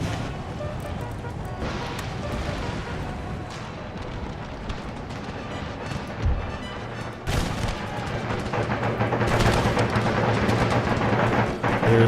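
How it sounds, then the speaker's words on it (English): Artillery fire on an Empire: Total War battlefield, a rumbling mass of booms and crackling shots that swells louder in the later seconds, with a few sharper blasts standing out. "All artillery, fire on their artillery."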